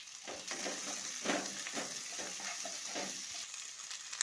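Chopped onion, green chili and capsicum fry and get stirred in a pan for cauliflower Manchurian, a steady close sizzle broken by several soft scraping stirs, with no talking.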